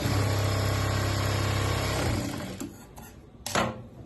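A sewing machine runs steadily while hemming a pair of straight pants, with a fast continuous stitching buzz lasting about two seconds, then stopping and leaving only faint handling clicks.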